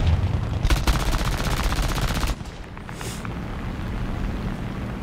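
Machine gun fire in the War Thunder video game, an I-15bis aircraft firing 30 cal guns in a rapid continuous burst for about two seconds, then stopping, followed by a lower background rumble.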